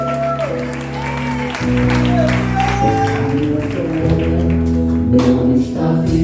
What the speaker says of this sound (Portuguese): Muitas as palmas ao Senhor